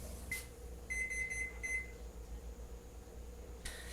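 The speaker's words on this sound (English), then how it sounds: "So our timer is up on the 15 minutes." A kitchen timer for pork ribs with dry rub goes off: a quick run of high electronic beeps in two short bursts, with single beeps just before and after, fairly faint over a steady hum.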